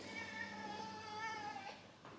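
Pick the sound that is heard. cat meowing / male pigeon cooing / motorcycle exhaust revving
cat meowing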